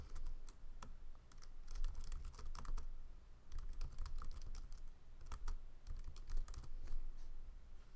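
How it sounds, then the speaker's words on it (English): Typing on a computer keyboard, soft, close key clicks in quick irregular bursts with short pauses, faint and alone with no talk. "we'll go ahead and type"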